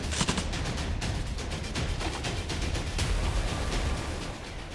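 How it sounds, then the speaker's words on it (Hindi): Dense, continuous gunfire from a Russian gun brigade firing on Ukrainian positions, a rapid crackling barrage of overlapping shots that stays loud and unbroken throughout. "रूस की गन ब्रिगेड कुछ इस तरह से यूक्रेनी पोजीशंस पर ताबड़तोड़ गोलियां दाग रही है।"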